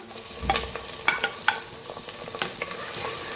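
Two large onions frying in hot oil in a clay pot, a steady close sizzle broken by a few sharp clinks and scrapes of stirring, with no talking.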